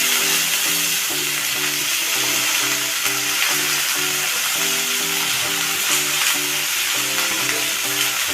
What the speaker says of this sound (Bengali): আমি কিন্তু ঢ্যাঁড়সগুলোকে বেশ সুন্দরভাবে কিন্তু আমাকে ফ্রাই করে নিতে হবে।